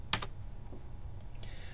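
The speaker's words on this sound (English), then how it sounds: "I come back over here, and I type" A brief burst of typing on a computer keyboard, a couple of quick close clicks followed by a few fainter taps, alone without talking.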